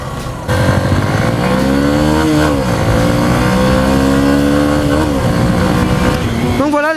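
A 2017 Honda CB125F with its stock exhaust rides through a curve: a loud, close, continuous engine drone whose pitch rises and falls smoothly as the rider eases through the bend.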